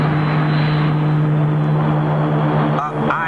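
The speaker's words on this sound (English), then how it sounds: "the orbit jet is in the process of landing" The orbit jet from a space film comes in to land, a loud continuous engine roar with a steady low hum, close and unbroken throughout.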